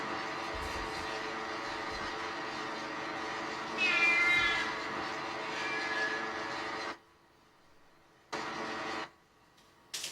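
A cat meows several times, rising and wavering, over a steady engine-like hum that cuts out briefly near the end.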